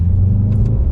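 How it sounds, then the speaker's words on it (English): A 2019 Mercedes-Benz GT 63 upshifts through its paddle-shift gearbox, a loud, close engine rumble that holds steady and then hitches briefly in two quick blips as the next gear engages. "absolutely no lag between me hitting the upshift paddle and the car going into the next gear"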